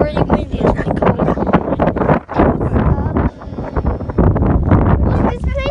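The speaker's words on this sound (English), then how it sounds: "It's really windy." Cold wind on Weymouth beach buffets the microphone in heavy gusts, a roaring rumble under people talking outdoors.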